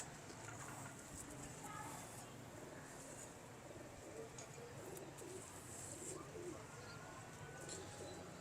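Lakha breed pigeons coo softly in a loft, faint low murmurs under a constant hiss of background noise, with occasional chirps and possible quiet voices.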